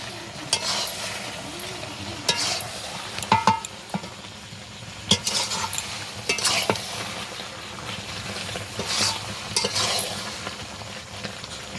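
Spice masala is stirred into raw mango pickle in a pan, with irregular scraping and clinks of a spoon against metal over a low, continuous sizzle.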